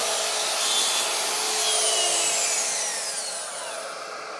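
A track circular saw makes a shallow scoring pass through wood on a workbench, giving a continuous whining, hissing cut that holds steady and then eases off slightly toward the end, with no voices.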